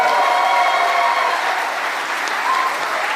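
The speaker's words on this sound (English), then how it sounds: "A wonderful round of applause for His Excellency." Sustained applause from an audience at the official opening of the JW Marriott hotel in Nairobi, a dense, steady wash of clapping that holds at even loudness and eases slightly toward the end.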